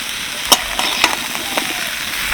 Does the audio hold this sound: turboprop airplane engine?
no